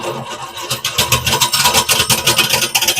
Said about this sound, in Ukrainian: Спиняються молотки зараз.